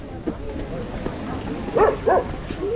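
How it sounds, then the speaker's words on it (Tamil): A Nepali dog at the Monkey Temple in Nepal gives two quick, fairly close barks over a background of people talking. "நேபாளி நாயும் நம்ம ஊர் நாய் மாதிரி தான் இருக்குது, ஆனால் ரக்கடான நாயாக இருக்குது"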